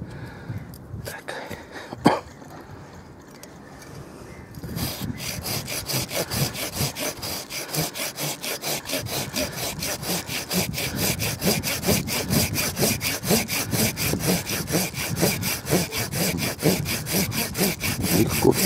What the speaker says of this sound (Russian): Классно, классно пилит.